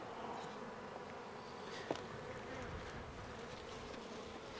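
A steady, dense buzzing of many honey bees around hives by cotton fields fills the air continuously, with a brief louder click partway through.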